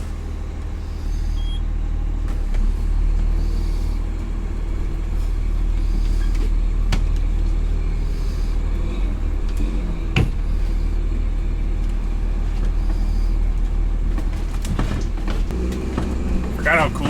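A car hauler bus converted into an RV drives on the highway after sitting for over a year, giving off a steady, loud low engine and road rumble throughout, with occasional knocks and people talking over it.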